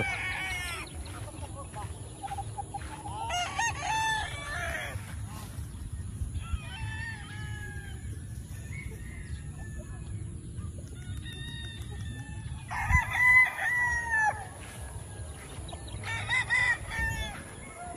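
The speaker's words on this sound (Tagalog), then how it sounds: "Daming manok" A crowd of chickens and roosters on a farm crows and clucks in scattered bursts, some near and some farther off, over a steady low background rumble.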